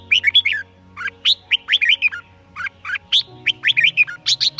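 A red-whiskered bulbul (Pycnonotus jocosus) sings loud, close, bubbly phrases of quick chirping whistles, repeated in bursts with short pauses between them, over a faint low hum.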